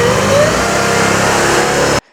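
A Mercedes E55 engine revs hard on a dyno, a loud, steady roar with a rising whine that holds for about two seconds, then cuts off abruptly into silence.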